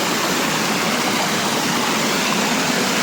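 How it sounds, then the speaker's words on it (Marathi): A small waterfall pours in a steady, full rush of falling water, close and loud, with no pauses and no voices over it. "हा बघा छोटासा वॉटरफॉल आहे इथे"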